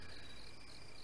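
Bell crickets chirp in a steady, faint, continuous trill inside the video game Clock Tower Ghost Head, with no other sound over it.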